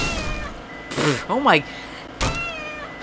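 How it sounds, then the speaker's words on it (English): Two cartoonish cat meows from the Purr Pals video game, bending up and down in pitch as if in pain, follow a short burst of noise. A person speaks briefly over the game sounds. "These sound effects sound like I'm actually just crashing my cat into walls."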